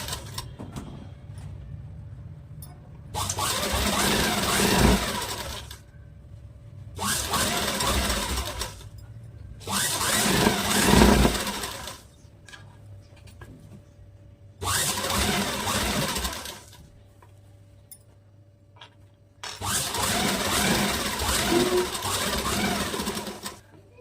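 Sewing machine stitching a 2-inch fabric strip for a princess-cut blouse with half-inch stitches, running in five steady bursts separated by short pauses, close and clear with no talk.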